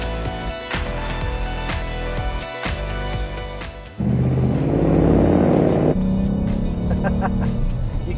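Ford Mustang fitted with Bilstein B16 suspension driving at about 60 mph into a turn, a steady loud engine drone with road rumble that swells louder midway and holds, no talk.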